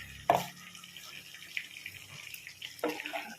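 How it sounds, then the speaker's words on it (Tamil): Water is poured into a pot of fish curry with curry leaves and onions, a couple of short splashing pours with quieter trickling between them, recorded close up, while a person talks over it. "இப்போ நம்ம தண்ணி ஊற்றிக்கணும்"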